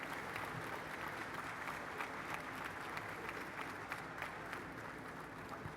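Steady, dense applause from an audience at a business leaders' panel, sustained and even throughout, welcoming a head of state arriving on stage.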